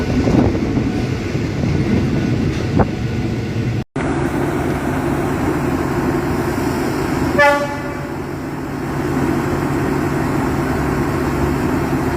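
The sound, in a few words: Thai ordinary train 276 departing Phaya Thai stop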